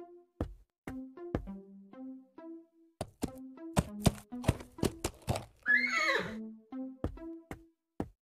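A horse in the point-and-click video game Willy Morgan and the Curse of Bone Town. It whinnies and neighs near and clear, with a string of hollow clip-clop hoof knocks and thunks spaced unevenly around the calls.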